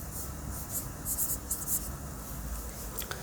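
Marker or chalk writing on a board, with soft scratchy strokes in short bursts, fairly quiet against low room noise, with no talk over it.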